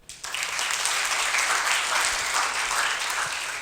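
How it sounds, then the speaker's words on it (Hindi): A classroom audience bursts into applause at a career guidance class, sustained dense clapping that starts abruptly and stays loud and steady throughout. "ताली बजाओ"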